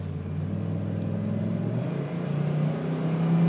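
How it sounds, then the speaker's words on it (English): A Dodge V10 4x4 dually pickup truck accelerates, its engine a steady low rumble that climbs gradually in pitch and loudness as it pulls away, close and continuous with no talking. "Go ahead and give it a little gas out of here one more time"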